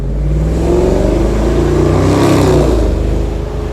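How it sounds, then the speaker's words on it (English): A car engine revs up nearby, a loud throaty growl rising and swelling in pitch before settling back slightly. "I've got a noisy engine car, so let's have a little listen."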